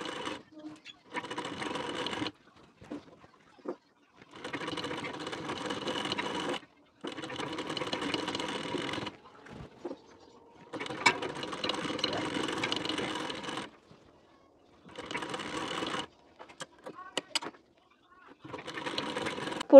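An electric sewing machine stitches a neck strip around the collar of a size 36 blouse, running in several whirring bursts of a few seconds each, separated by quiet pauses and small clicks, close by with no talking.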